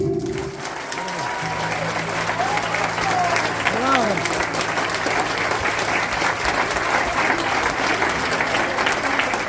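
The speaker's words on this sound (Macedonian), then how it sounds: "Еден голем аплауз за нив." Audience applause for a school children's choir and orchestra, a dense, sustained clapping that holds loud and even for several seconds, with a voice briefly heard at the start.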